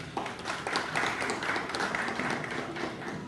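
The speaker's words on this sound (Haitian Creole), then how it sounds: "Je vous demande encore de l'applaudir." Audience applause at a ceremony honouring a speaker, a steady patter of many hands clapping at moderate volume, slightly distant, with no one talking over it.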